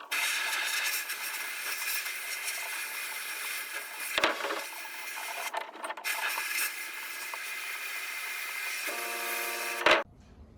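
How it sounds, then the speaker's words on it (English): Sandblasting of rear end parts and bolts for a 1963 Chevy C10 truck restoration gives a continuous hissing blast that cuts out briefly twice before resuming, then stops with a clunk near the end. "We're gonna get this thing sandblasted"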